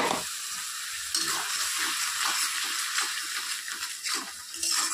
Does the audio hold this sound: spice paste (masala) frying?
yes